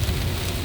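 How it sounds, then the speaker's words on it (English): Heavy rain pours onto a car driving over the Causeway bridges in Metairie during a thunderstorm, a dense continuous wash of drumming with low rumble underneath, close and loud. "Definitely still raining on Causeway."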